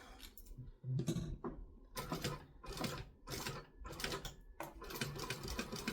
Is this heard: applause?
no